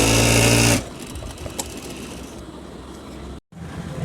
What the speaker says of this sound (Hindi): उसके बाद आपने निशान के ऊपर सिलाई लगा देनी है।